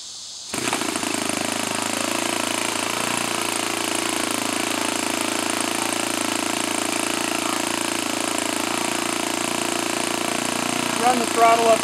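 An O.S. FS-95V four-stroke model airplane engine turning an APC 15x8 propeller on a test stand. It kicks in after half a second, then holds a steady, buzzing, close drone with a slight rise at the end.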